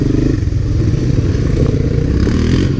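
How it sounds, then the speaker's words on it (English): A 1986 Honda Big Red three-wheeler rumbles steadily nearby on a trail in Vernon, New Jersey, its engine a continuous low drone with rattling clatter from the ride and no talking. "riding with my friend Sabri, who is on the lead trike, which is an 86 Big Red."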